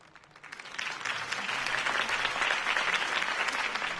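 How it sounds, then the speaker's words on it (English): A crowd at a political campaign rally in the Batman Telltale video game breaks into applause that swells within half a second into sustained, dense clapping and cheering, loud and filling the scene. "could have heard that applause"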